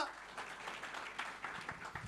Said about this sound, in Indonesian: Tepuk tangan buat Allah kita.